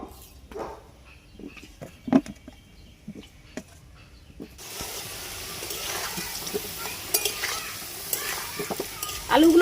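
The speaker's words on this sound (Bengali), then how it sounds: "এবারে আমি আলুগুলো ভেজে নেব।" Potatoes fry in a pan for village-style country butter chicken, first with scattered stirring clatter, then a loud, steady broadband sizzle swelling up for the second half with occasional scrapes.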